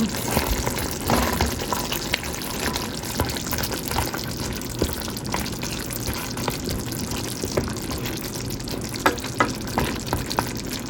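Onions frying in a pan while cooking pacham, a steady close sizzle with scattered crackles and pops running throughout, no talking.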